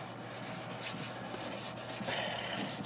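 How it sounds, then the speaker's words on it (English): Wet sanding with 400-grit wet-and-dry sandpaper on a Piper Cherokee wingtip during body work: a steady, continuous rasping rub that carries on without a break and with no talking. "wet sanding, and that takes some of the lumps off of it"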